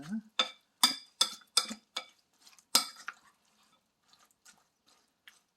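A spoon stirs zucchini pancake batter in a bowl, a series of about ten clinking, scraping strokes in a steady rhythm, close and clear, then fading into a few faint taps.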